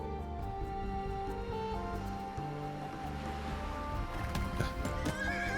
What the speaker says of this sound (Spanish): Los caballos están sueltos.